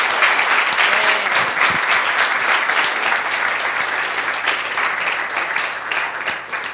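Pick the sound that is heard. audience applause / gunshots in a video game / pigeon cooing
audience applause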